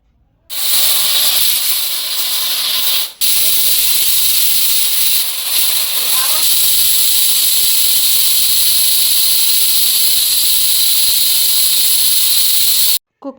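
A pressure cooker on the stove, cooking bisibele bath, lets out a long, loud, steady whistle of escaping steam that starts abruptly, holds for about twelve seconds with a brief dip, then cuts off.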